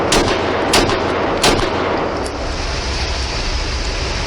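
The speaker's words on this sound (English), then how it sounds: "there's another 5 rounds unsuppressed just for comparison" Five unsuppressed shots from a Glock 19 9mm pistol crack out loud and sharp in quick succession over roughly a second and a half, each blast ringing off into a lingering outdoor echo and rumble.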